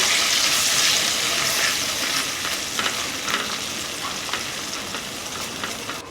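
Soybean chunks with poppy seed paste, spices and salt are fried and stirred in a pan, giving a loud continuous sizzle with rhythmic scraping stirs close up and no voices.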